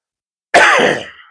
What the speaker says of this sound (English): I know that coughing sounds horrid in the mic